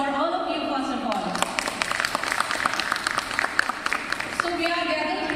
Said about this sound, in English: I would like you to give a great round of applause for all of you